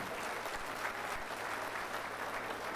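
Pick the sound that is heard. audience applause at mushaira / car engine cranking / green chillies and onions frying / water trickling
audience applause at mushaira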